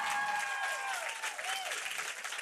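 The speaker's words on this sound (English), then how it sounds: "So give him a round of applause for that." An audience at a live-streamed book event applauds an award-winning novelist with a dense burst of clapping, while a faint whistle-like tone glides across the noise.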